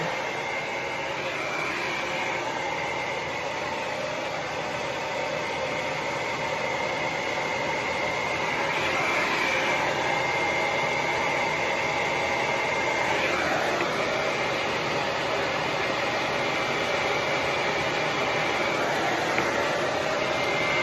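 A hair dryer blows continuously while hair is being curled, a steady, close whooshing hum that barely changes for the whole stretch, with no talking.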